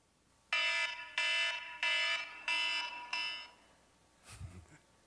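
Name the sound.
alarm clock ringing sound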